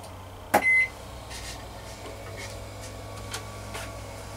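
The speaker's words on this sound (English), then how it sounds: "So we do have power going to the microwave." A microwave oven running inside a DIY travel trailer gives a sharp beep, then a low steady hum that holds faint and even for a few seconds.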